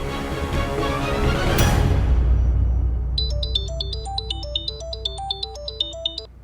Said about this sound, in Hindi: यह अधिक का फोन मुझे क्यों आ रहा है?